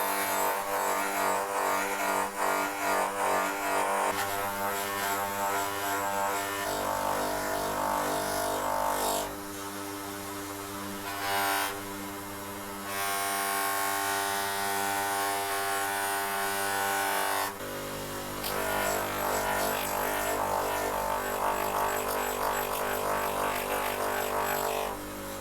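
A buffing motor polishes a chrome wheel spinner with polishing compound, producing a sustained buzzing whir that dips and changes tone several times as pressure varies, with no talking.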